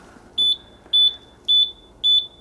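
A Golden Buzzaround LX four-wheel mobility scooter sounds a warning beep for a braking-system fault, four clear, evenly spaced high electronic beeps at close range, with nothing else heard.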